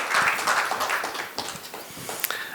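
An audience at an education conference panel applauds as a professor is called to the stage, a moderate, scattered patter of claps with a few sharper individual hits.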